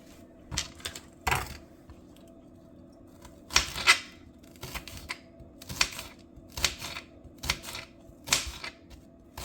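A knife cuts washed green onion on a board in a quiet kitchen, giving irregular, crisp taps in short clusters, close and fairly light, with brief pauses between bursts.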